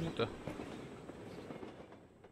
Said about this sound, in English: That train is so loud.